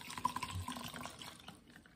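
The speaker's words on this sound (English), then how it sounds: "We're then going to add 1 cup of rubbing alcohol." Rubbing alcohol is poured into a measuring cup, making a faint, soft trickle of liquid over about two seconds in a quiet room.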